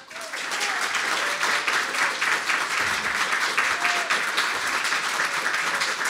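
Audience applause fills a hall during a Longueuil mayoral candidates' debate, steady dense clapping from a large crowd sustained for about six seconds with no speech over it.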